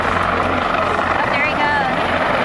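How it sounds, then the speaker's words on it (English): A Coast Guard rescue helicopter hovers over the open ocean beside a cruise ship during a medical airlift, its loud, steady rotor drone filling the whole stretch. "Coast Guard helicopter rescue in the middle of the ocean from Carnival Sensation ship."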